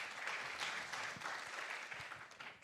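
An audience at a green finance conference claps for the panel, steady dense applause that swells and fades slightly over a few seconds, moderately distant, with no talking.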